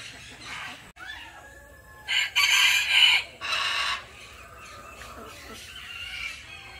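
A backyard rooster crows a couple of times at moderate distance, strained, broken calls rising over quiet outdoor background with faint clucking around them.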